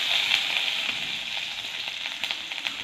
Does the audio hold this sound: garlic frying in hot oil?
yes